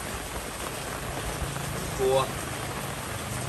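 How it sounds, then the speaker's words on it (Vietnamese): Heavy rain pours steadily over a rice field in Vietnam, a dense even hiss, while someone speaks over it. "giờ đang mưa quá trời à"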